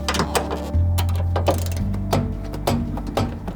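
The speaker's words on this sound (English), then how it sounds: "looks to be a 16mm socket required. Give them a little slacken" A ratchet on a 16mm socket works at tight, rusty seat bolts on a Mercedes Sprinter swivel seat, giving quick mechanical clicking strokes over a steady low hum, close and fairly loud.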